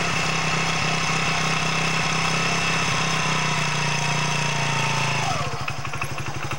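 A motorcycle engine runs loud and steady at raised revs, then drops abruptly into a rough, pulsing idle near the end.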